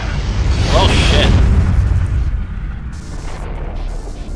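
A heavy explosion booms in the video game Front Mission. It bursts loudly at once, then settles into a long, deep rumble that slowly dies down.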